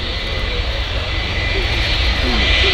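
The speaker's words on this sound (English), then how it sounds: "we have the TUI Boeing 737 MAX coming into land here" A TUI Boeing 737 MAX jet coming in to land at Manchester Airport, a steady broadband engine roar that grows slightly louder across the span, with faint talk underneath.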